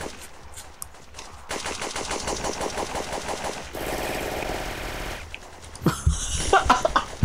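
Rapid automatic gunfire in Devil May Cry 3 crackles in tight repeated bursts, then gives way to a harsher sustained spray and scattered sharp shots near the end, loud and close with no talking.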